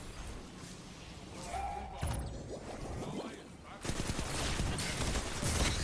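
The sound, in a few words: gunfire from a gun in the video game Destiny Trials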